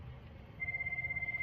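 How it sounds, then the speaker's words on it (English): A mobile phone rings partway through, a steady pulsing electronic tone over quiet room noise, fairly faint and continuing to the end. "My phone's ringing."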